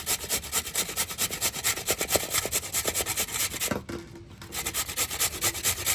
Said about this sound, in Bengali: একদম ঝিরিঝিরি করে আলুটা ঘষে নিচ্ছি।